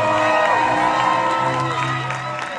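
A large crowd cheers and whoops for the France and Ukraine teams at a 16-versus-16 medieval combat tournament, a dense, steady roar of voices with shouts rising out of it throughout.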